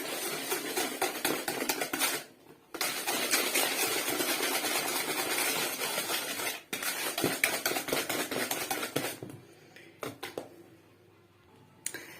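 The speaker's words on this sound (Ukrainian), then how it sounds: "Розмішаю." Melted butter, about 100 grams, being stirred in a bowl for Viennese curd-cheese waffle batter, giving a busy, continuous clatter and scrape of utensil against dish with brief pauses, close and fairly loud with no talk.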